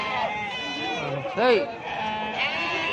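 Macharla ram lambs bleat at a livestock market in several wavering calls, one loud and close, with people talking throughout.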